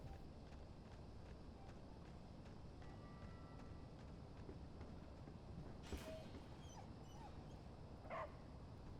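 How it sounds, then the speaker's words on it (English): Dog whimpering and yipping in the video game Oxenfree II, a few short faint cries near the end over a steady noisy ambient bed with no talk. "Did you hear that? Doggy?"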